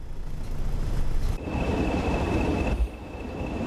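Diesel train engine idling on the West Coast Main Line in snow, a steady low rumble with a thin high whine that starts partway through and a brief bump near the end.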